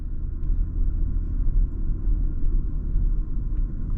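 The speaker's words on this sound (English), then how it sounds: "I heard that car." Deep, steady low rumble of a car on the road heard from inside a 2018 BMW X3 M40i while driving, with faint ticks above the constant drone.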